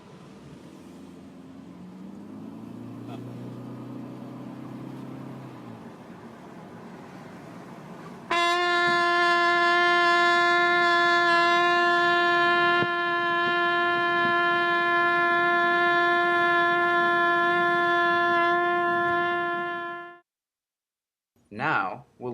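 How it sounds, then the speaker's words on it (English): Inside a moving car, a trumpet sounds one sustained, steady-pitched note for about twelve seconds over low road and engine rumble, then cuts off abruptly, leaving near silence. "First, we'll ride with the trumpet to see how it sounds."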